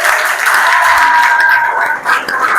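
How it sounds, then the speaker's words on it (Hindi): An audience gives a short burst of steady applause for a student at a road safety event, loud and close for a couple of seconds. "मुदित्य ठाकुर के लिए एक बार जोरदार तालियां।"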